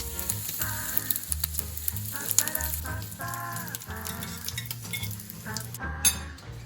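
Bacon fries in a pan for homemade hamburgers, giving a steady crackling sizzle with occasional clinks of a utensil against the pan, close by under background music.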